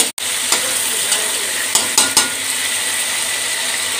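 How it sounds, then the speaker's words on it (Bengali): Potatoes frying in hot oil in a home kitchen, a continuous bright sizzle with a few sharp scrapes and clinks of a spoon stirring against the pan, close and loud, no talk. "আলুটা ভেজে নিলে একটু হালকা হালকা ভাজা ভাজা ঘ্রাণ আসবে"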